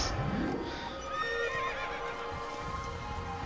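A horse in the video game Assassin's Creed whinnies in a long rising and falling neigh, with soft hoof clops and faint background noise underneath.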